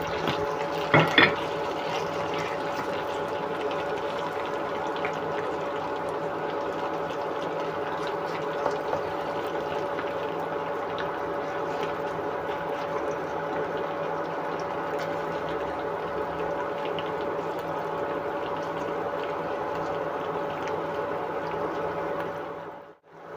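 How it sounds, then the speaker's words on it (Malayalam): Okra pieces sizzling in hot oil as they fry toward a crisp brown, a steady dense crackle and hiss held evenly throughout, with a sharp clatter near the start and no talking. "ഇതൊരു ബ്രൗൺ വരെ നമുക്കൊന്ന് വറുത്തെടുക്കാം കേട്ടോ നല്ല ക്രിസ്പി ആയിട്ട് കിട്ടണം"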